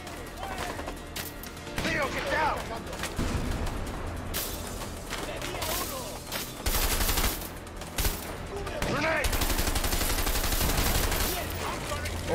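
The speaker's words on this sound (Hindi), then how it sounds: "ये ग्रेनेड लॉन्चर।" Gunfire and explosive launcher blasts from the video game A Way Out, a dense continuous barrage of shots and bursts with voices talking over parts of it.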